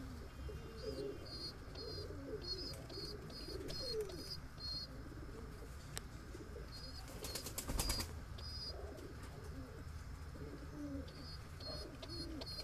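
Andhra high-flying pigeons in a breeding loft, a pair sitting on eggs, give soft low cooing with occasional bursts of wing flapping, steady and close throughout against faint background chirps.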